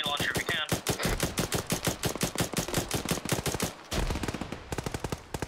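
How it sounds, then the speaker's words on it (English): Sustained machine-gun fire in the video game Arma set in the Gulf War, loud close rapid bursts of evenly spaced shots with a brief pause near the middle before firing resumes. "there's a machine gunner on the hill, try and hit him"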